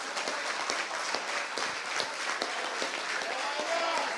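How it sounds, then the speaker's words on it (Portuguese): A church congregation applauds during a sermon, a dense, steady patter of many hands clapping at moderate distance, with scattered louder claps and a few voices mixed in. "Você consegue aplaudir ao Senhor pela sua palavra agora?"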